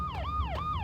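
A wailing emergency siren from the Max Payne video game rises and falls in steady sweeping cycles, loud and close, with no talking over it.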